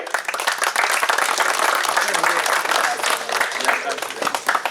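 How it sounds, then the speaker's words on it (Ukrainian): An audience at a football awards ceremony in Ukraine applauds, dense continuous clapping from a large hall that keeps going at an even strength the whole time. "І ваші аплодисменти."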